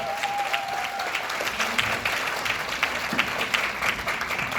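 An audience claps in thanks for four panelists at a Q&A talk show, even sustained applause at moderate volume with a faint tone lingering briefly at the start.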